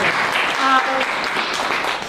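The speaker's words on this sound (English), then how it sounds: "Give yourselves a round of applause" Improvisers in a class or workshop applaud themselves in a brief, dense wash of clapping, close and fairly loud, with voices talking over it.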